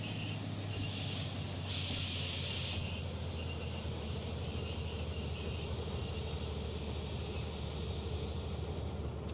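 Locomotive braking to a stop in the Derail Valley train game, a steady low rumble of rolling rail wheels with faint high brake squeals and hiss that ease off after the first few seconds.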